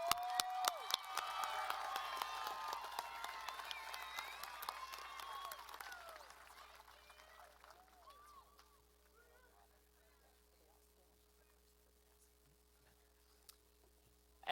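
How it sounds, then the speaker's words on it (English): Audience at a 2020 high school graduation ceremony applauding loudly with some cheering, the clapping fading out after about eight seconds into a quiet hum with scattered faint noises. "Join me in giving them a big round of applause."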